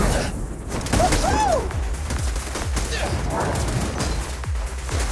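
Gunfire in the action game Zenless Zone Zero: rapid bursts of shots and impacts strike in a steady rhythm, mixed with whooshing effects and a brief character voice line.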